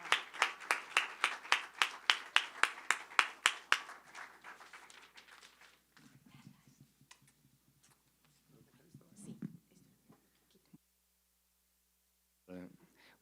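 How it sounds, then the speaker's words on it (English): Audience clapping welcomes performers at a university open house, a burst of fairly sparse, distinct claps for about four seconds, then quiet room noise with faint murmuring and a brief voice near the end. "So let's have a round of applause to welcome them."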